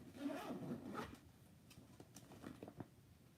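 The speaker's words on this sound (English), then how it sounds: "Zipper is super smooth." A quiet zipper on a leather tote bag runs back and forth with soft rubbing and scraping, close by, a few short pulls in a row.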